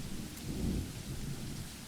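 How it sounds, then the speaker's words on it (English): Rain falling steadily with a low thunder rumble swelling underneath, a short faint stretch of storm noise with no voices. "The rain starts."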